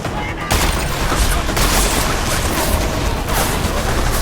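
Dense gunfire from the first-person shooter Deus Ex: Mankind Divided, a loud continuous fusillade of rapid shots and booms sustained for several seconds, with a brief quieter gap near the start.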